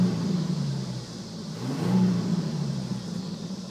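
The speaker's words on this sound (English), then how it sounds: "I'm going to rev it up so you guys can hear the motor" A 1997 Ford Taurus engine revs up, its low rumble swelling in pitch and loudness midway, then settling back to a steady idle.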